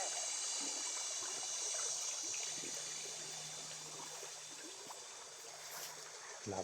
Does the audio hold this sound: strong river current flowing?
yes